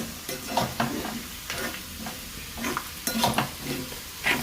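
Chili powder being stirred into coconut roasting in a pan for a chicken curry: soft scraping strokes and a low sizzle, with irregular stirring clatters close by and no talking.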